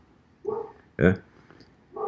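A small dog whimpers and barks in short bursts near the microphone, with a voice speaking between the sounds.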